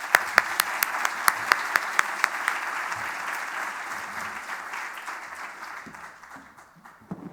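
An audience at a talk on immunology and Covid-19 bursts into steady applause, dense clapping with a few louder claps near the front, slowly fading toward the end.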